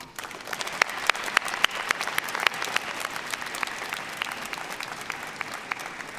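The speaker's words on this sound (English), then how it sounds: "join me in clapping for your friends and family that are sitting around here that helped you get to this moment" Graduates and guests applaud at a college commencement ceremony, a fairly distant, sustained patter of many hands with individual sharp claps standing out.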